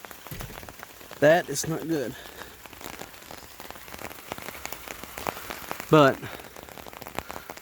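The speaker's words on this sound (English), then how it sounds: "ain't doing nothing but just raining" Steady rain falls outdoors during a storm, drumming on surfaces and an umbrella close by, with someone talking over it in short bursts.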